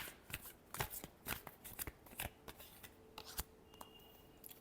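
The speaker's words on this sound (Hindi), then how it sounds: "last shuffle" Tarot cards shuffled by hand in quick, crisp riffles and snaps, close and clear, with no speech over them.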